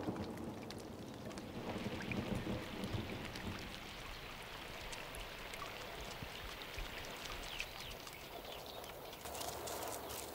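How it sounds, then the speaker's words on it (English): A late summer thunderstorm breaking a drought where wild horses roam: steady rain hiss with low rumbling beneath it, continuous and moderately faint, with no voices. "A late summer storm breaks Kalamiley's season of drought."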